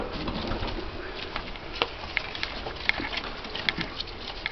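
Pigeons in a loft, soft cooing and light pattering with a few sharp wing flaps or clicks, close and fairly quiet against low background noise.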